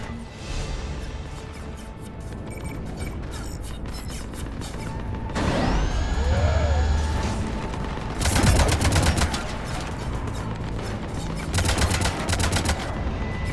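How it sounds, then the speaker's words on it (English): Cannons fire in the video game Mass Effect 3, sounding as repeated bursts of heavy rapid gunfire mixed with mechanical whirring and creaking, loud and without speech. "Cannons engaging."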